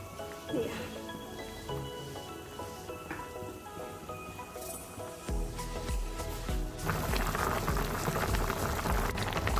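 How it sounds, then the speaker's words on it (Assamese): A pot of chicken bubbles and boils on high heat, with a steady hiss of simmering liquid that grows louder and denser toward the end. "এয়া চাওক মাংসখিনি বইল হ'বলৈ ধৰিছে।"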